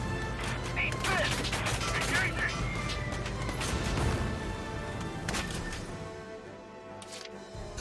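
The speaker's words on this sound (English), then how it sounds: "the enemy's firing back!" Enemy gunfire in the Valkyria Chronicles 4 ship battle comes as scattered sharp cracks and bursts over a dense, noisy battle backdrop, with game voices calling out over it.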